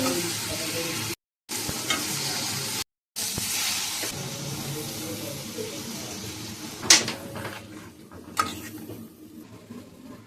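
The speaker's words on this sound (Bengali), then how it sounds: "আমি এখন রান্না করছি মাছের ঝোল" Fish curry cooking in a pan gives off a steady hissing sizzle close to the mic, with two brief dropouts early on, then fading somewhat with a couple of sharp clinks of a utensil.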